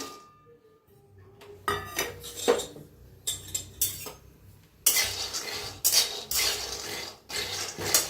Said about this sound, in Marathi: आता घेऊया शेंगदाणा भाजून